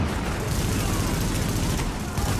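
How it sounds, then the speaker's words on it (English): Gunfire in the video game Tom Clancy's The Division, dense overlapping shots and bursts forming a continuous loud barrage with no clear pauses. "They're shooting sideways and shit"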